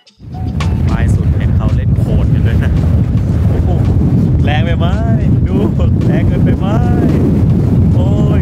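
Strong wind buffets the microphone at Sun Moon Lake in Taiwan, a steady loud roar of gusts over open water, with a person talking over it at times.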